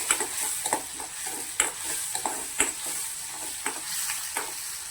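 Onion frying with a pinch of salt in a pan over high gas, an even sizzle broken by repeated rhythmic scrapes and taps of a stirring spoon, close and fairly loud.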